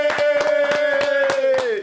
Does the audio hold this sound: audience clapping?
yes